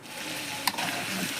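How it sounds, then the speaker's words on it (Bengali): Fish fries in hot oil, alongside bitter gourd, in a home kitchen. A steady close sizzle runs throughout, broken by one brief sharp clink or scrape midway. "মাছ ভাজা হচ্ছে।"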